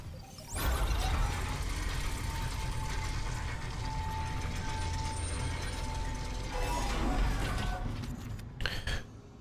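Elevator rising in a horror video game, a loud continuous mechanical rumble with ratcheting, gear-like clatter that starts abruptly, holds steady, then stops with a few final clunks.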